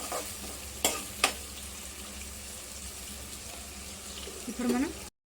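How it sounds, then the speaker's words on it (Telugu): Onions with curry leaves fry and are stirred in a pan, a steady sizzle broken by a couple of sharp utensil taps near the start and a short scrape near the end. "ఈ ఆనియన్స్ కొంచెం బ్రౌన్ కలర్లో వచ్చేంత వరకు మనం వేయించుకోవాలి"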